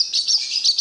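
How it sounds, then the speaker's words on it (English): A swallow calls in a single bright, high chirping burst, loud and close, lasting under a second with no other sounds around it. "Swallow."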